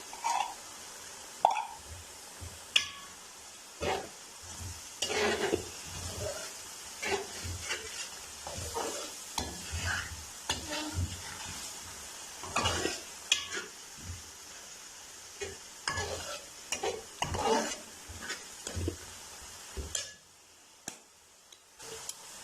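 Fish curry masala frying in a pan, a soft steady sizzle under frequent clicks and scrapes of a spoon stirring the spices, close and moderately quiet, ending with a brief lull.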